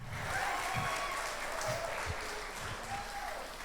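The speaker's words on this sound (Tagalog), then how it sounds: "Palakpakan na naman." Sustained applause from a crowd honoring teachers at a Teachers' Day church gathering, a steady wash of clapping with a few low voices and cheers mixed underneath.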